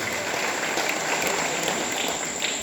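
A crowd applauds continuously at a temple festival gathering, a dense, even wash of clapping held at one level throughout with no voices above it.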